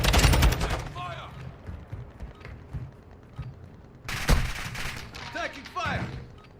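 Gunfire in a tactical shooter video game, with several rapid bursts of shots at the start and again midway, loud and close, mixed with voices and other game sounds.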